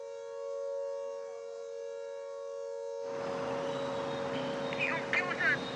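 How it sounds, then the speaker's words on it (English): An air raid warning siren sounds in Chandigarh, its steady wailing tones carrying loud and sustained, joined midway by a burst of broadband noise and rising louder activity. "So air siren warning sounded in Chandigarh."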